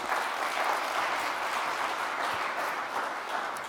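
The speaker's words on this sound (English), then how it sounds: "Please, warm welcome, nice applause." Audience applause at the opening of a European e-skills campaign event as a speaker from the European Commission comes on stage, a steady, dense wash of clapping holding even for several seconds.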